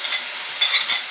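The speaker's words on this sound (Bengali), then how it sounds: "3 চামচ পোস্ত বাটা আর 1 চামচ সাদা সরষে বাটা আর 4টে কাঁচা লঙ্কাকে আমি একসঙ্গে পোস্ত ভেজে নিচ্ছি" A paste of poppy seed, white mustard and green chilli fries in a pan, giving a loud, close, hissing sizzle that swells briefly as it is stirred.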